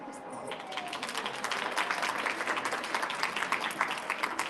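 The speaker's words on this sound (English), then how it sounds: "So round of applause." An audience at a CES fireside chat breaks into applause, clapping rising from a quiet start into a dense, steady patter that holds to the end, with a voice briefly audible near the beginning.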